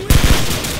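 Gunfire in Call of Duty during a match on a Rio construction site downtown: a quick burst of three or four loud, close shots with a short ringing tail, no one speaking.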